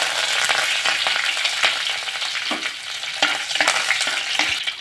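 Mustard seeds, fenugreek and curry leaves hit hot oil for a kingfish mappas, giving a loud, steady, crackling sizzle close up with scattered pops and spattering throughout.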